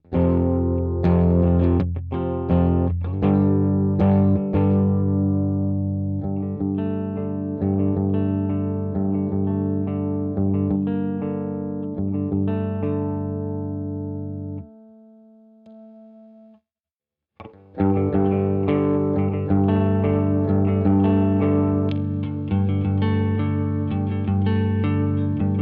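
Electric guitar played through a Keeley Caverns V2 reverb and delay pedal with heavy saturation, sustained distorted chords ringing out with lush reverb trails, a brief near-silent break, then loud strumming resumes.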